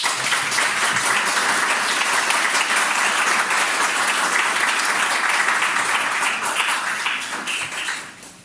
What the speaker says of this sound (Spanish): Un aplauso grande al Espíritu Santo.